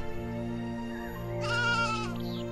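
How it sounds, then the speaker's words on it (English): Sheep bleating in a quavering, harmonic call from about the middle of the clip onward, moderately loud over a steady tonal musical backdrop, with no talking. "The rich man had flocks and sheep in great abundance."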